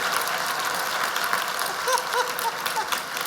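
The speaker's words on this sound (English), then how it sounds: "So let's have a big clap for that, for Tom to come and sing at our gala" A gala audience claps in a dense, sustained round of applause, steady and fairly loud throughout, with a few faint whistles near the end.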